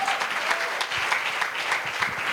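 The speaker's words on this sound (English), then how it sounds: "Oh, you can clap loudly." A finance summit audience in Ghana welcomes a speaker with steady, fairly loud applause, a continuous patter of many hands clapping at close range.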